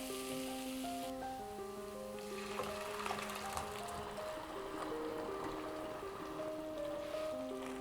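Dal for restaurant-style dal makhani hits hot spiced oil in a pan, giving a steady hiss and sizzle under soft background music.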